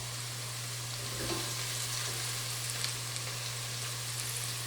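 Celeriac soup vegetables cooking gently in a pot without browning, giving a steady soft sizzle and hiss under a constant low hum, with no voices.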